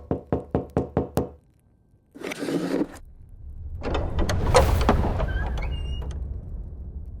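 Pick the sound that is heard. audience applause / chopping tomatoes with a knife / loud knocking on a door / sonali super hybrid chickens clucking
loud knocking on a door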